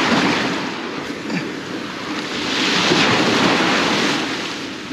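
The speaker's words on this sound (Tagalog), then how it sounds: "Ang lakas ng alon" Steady roar of surf pounding nearby off Balicasag Island, Bohol, waves swelling and crashing continuously with gusty wind buffeting the microphone.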